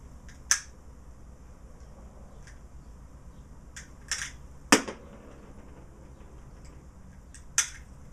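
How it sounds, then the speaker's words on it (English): Rounds are emptied one by one from a Ruger Mini 14 magazine: a handful of sharp, isolated metallic clicks spaced several seconds apart, close by in an otherwise quiet space. "Let me empty this mag."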